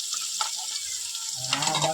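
Chopped chillies, cabbage and onion for Manchurian sizzle as they are stirred in a hot pan, a steady fry with scraping spoon strokes that grow louder toward the end; no voices.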